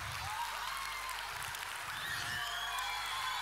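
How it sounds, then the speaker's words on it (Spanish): Audience applause for a winning youth team at a competition, a constant wash of clapping heard from a distance throughout, fairly faint. "Aplauso para ellos"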